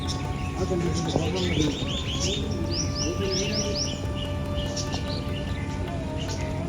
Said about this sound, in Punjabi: ਇੱਧਰ ਜੀ ਮੋਰ ਵਗੈਰਾ ਰੱਖੇ ਹੋਏ ਨੇ ਜੀ ਸਾਰੇ ਹੋਰ ਕਈ ਜਿਹੜੇ ਪੰਛੀ ਹੈਗੇ